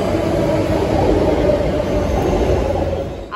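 A Bangalore Purple Line metro train runs with a loud, continuous low rumble and rolling hum that holds steady and then fades slightly at the end, with no voices.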